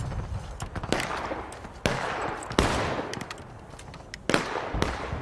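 Musket volley fire in the Civil War game War of Rights, irregular sharp shots cracking near and far, with several loud reports standing out above a crackling battlefield din.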